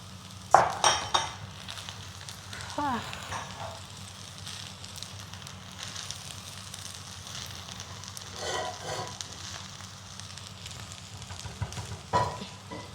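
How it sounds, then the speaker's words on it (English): Rice and vegetables stir-fried over high heat for Nigerian fried rice, with metal utensils clanking and scraping against the pan in bursts over a low constant hum, no talking. "Now we can go back with more of the vegetables. Remember, we are doing this on a high heat."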